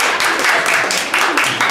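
Comedy club crowd at Broadway Comedy Club applauding and cheering in a steady, dense wash of clapping that holds for under two seconds, loud and close, with a few voices mixed in.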